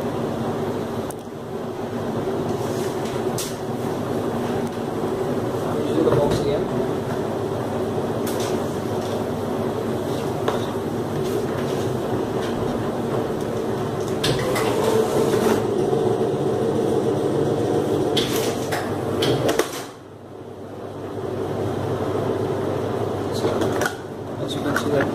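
A semi-automatic strapping machine runs with its belt removed, giving off a steady mechanical hum and whir that holds for about twenty seconds before a brief dip, while a voice is heard over it.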